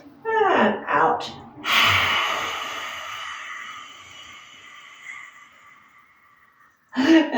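A long yoga exhale follows a couple of quick breaths, a steady breathy rush of air that fades gradually over several seconds before another breath starts near the end.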